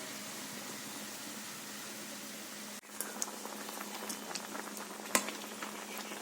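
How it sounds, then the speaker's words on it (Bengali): Melted jaggery is strained into a chalta (elephant apple) pickle, a soft, steady bubbling and pattering of liquid with a faint clink partway through. "গুড়টাকে আমি এভাবে ছেঁকে নিচ্ছি"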